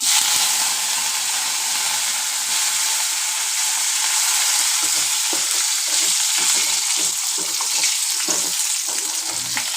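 Curry leaves sizzle steadily in hot oil as the final tempering for a cucumber dal, a continuous close, loud crackling hiss with small pops throughout.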